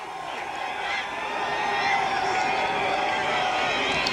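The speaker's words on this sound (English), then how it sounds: "Dundee crowd making noise." A high school football crowd at Dundee-Crown makes noise in the stands during a fourth-down moment, a broad, sustained roar of voices that swells midway and holds steady.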